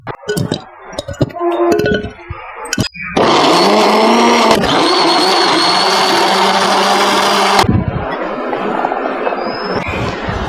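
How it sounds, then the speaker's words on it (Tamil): An electric blender roars loudly and steadily for several seconds as it purées cut fruit such as apple and pomegranate into juice, with close clinks and handling noises before it starts and after it stops. "நிறைய பழத்தை எடுத்து ஜூஸ் அடித்து எடுக்க போகிறோம்"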